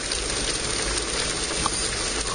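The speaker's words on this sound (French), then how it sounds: "De la grêle, la grêle." Steady dense patter of small icy pellets striking a surface, continuous and fairly loud throughout, with no voices.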